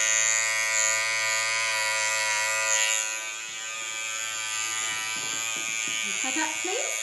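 Electric hair clippers with a grade 2 guard buzz steadily and close by while cutting a boy's short back and sides. The hum shifts slightly midway as the clippers move through hair, and a voice talks faintly underneath.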